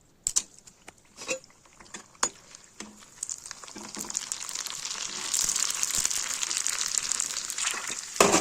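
Ready-made fuchka puris fry in hot oil in a wok, starting with a few scattered clicks and taps, then a loud, close, crackling sizzle that swells and holds steady.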